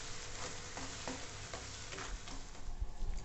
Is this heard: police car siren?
no